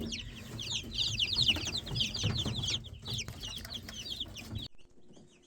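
Several hens cluck and chatter together in a busy, continuous flurry close by, then the sound cuts off abruptly near the end.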